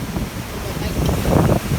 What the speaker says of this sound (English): It's windy in autumn and April.